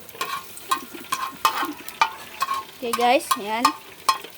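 Garlic browning in a pan for chicken tinola sizzles as a spoon scrapes and stirs in repeated close strokes, with a voice speaking briefly near the end.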